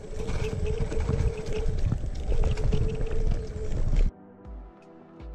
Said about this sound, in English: You can hear actually that the wheel is doing burnout, it's losing the traction